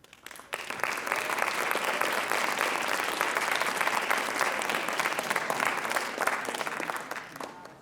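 An audience at a school writers expo breaks into loud, sustained applause after a short quiet start, with dense clapping holding steady until it tapers slightly at the end.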